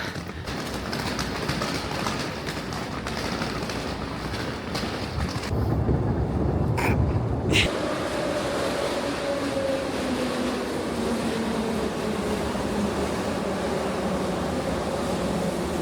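A Kyiv metro train rumbles steadily through Dorohozhychi station, its electric motors whining with a rising and falling tone as it pulls away.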